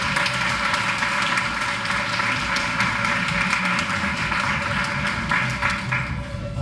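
Sustained audience applause at a teacher of the year ceremony, many hands clapping steadily and loudly throughout with a dense, even wash of claps.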